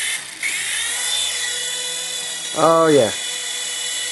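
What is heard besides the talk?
Heng Long Aurora micro RC helicopter rotor whirring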